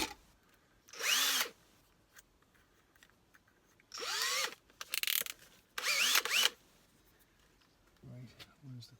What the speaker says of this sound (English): Drilling holes into my beloved dash.